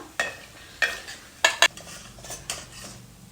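Snacks fry in oil in a pan with a soft background sizzle, punctuated by sharp metallic clinks and scrapes of a utensil against the pan as pieces are lifted out.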